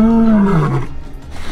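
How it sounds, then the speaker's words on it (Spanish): A big lion roars in the Botswana bush, a single loud, deep, descending roar close by that tails off into quieter rumbling, with no talking. "Es un león bien grande, míralo."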